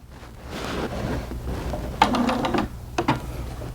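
A sewing machine back stitching and then stitching forward through fabric for a doll's pants, a steady mechanical whir with brief pauses and short bursts, close by and moderately loud, with no talking.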